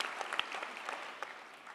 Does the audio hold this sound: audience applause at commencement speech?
yes